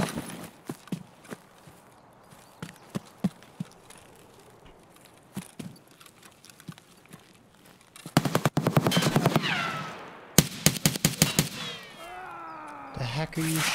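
Bursts of automatic gunfire from Escape From Tarkov erupt loud and close in the second half, rapid cracking volleys after a quieter stretch of scattered footsteps and movement, with talk over parts of the scene.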